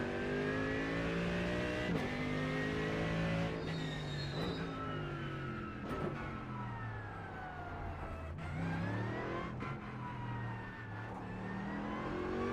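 Mercedes GT3 race car in a racing simulator game lapping the Nordschleife, its engine loud and continuous, rising and falling in pitch through repeated upshifts and downshifts with no talk over it.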